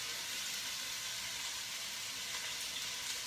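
Stew meat sizzles in an enameled cast iron Dutch oven, a steady, even hiss heard alone at a moderate level throughout.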